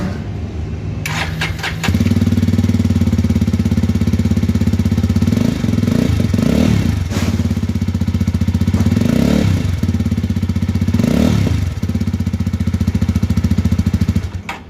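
A Jawa 350 single-cylinder motorcycle with a chrome-finished exhaust fires up after a second of near silence, then settles into a loud, steady, thumping idle close by, broken by several short throttle blips.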